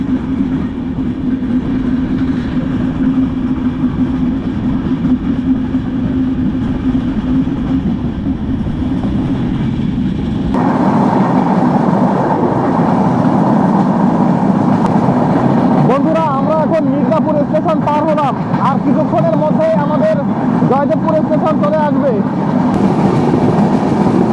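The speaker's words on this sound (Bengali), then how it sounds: "আমাদের এই দ্রুতদান এক্সপ্রেস ট্রেনটি টাঙ্গাইল রেলওয়ে স্টেশন ত্যাগ করতেছে" The Drutojan Express pulls out of Tangail railway station in Bangladesh, heard from on board as a steady rolling rumble that shifts to a brighter, louder clatter midway, with faint tonal sounds and possible voices later.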